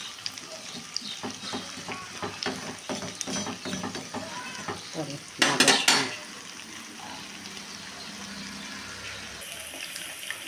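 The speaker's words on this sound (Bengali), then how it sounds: "আমি এই বাটিতে করেই বড়া ঠড়া ভাজার সময় ভাজি।" Chal kumro leaf fritters (pakora) frying in a small nonstick bowl, a close, steady sizzle with stirring clatter and a sharp burst of bubbling partway through, fading to a quieter hiss.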